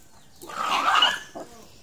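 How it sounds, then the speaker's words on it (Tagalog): Dogs bark outdoors, one drawn-out bark followed by a shorter, fainter yelp, somewhat distant and heard alone. "Yun, mga aso."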